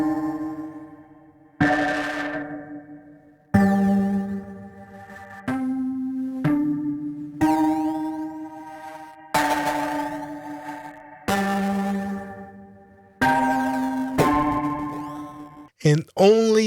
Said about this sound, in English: That's Bitcrush and Distortion.